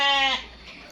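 Texel cross sheep, one of a breeding group of ten ewes and a ram, lets out a single close, strong bleat with a wavering harmonic tone that breaks off after about a third of a second, leaving quiet background.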